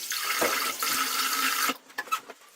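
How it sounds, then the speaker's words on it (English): Cold tap water running while a man rinses his shaved head at a sink, a steady close splashing flow that stops abruptly near the end, followed by a few dripping splashes. "I'm going to rinse off my head with cold water"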